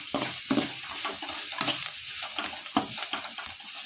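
Green chillies sauté with onions in a pan, making a loud, close, continuous sizzle broken by repeated scraping stirs of a spatula, with no speech.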